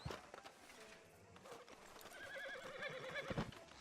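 A horse in Red Dead Redemption 2 clip-clops along at a walk and gives a loud whinny, with steady hoof beats under a faint ambient backdrop.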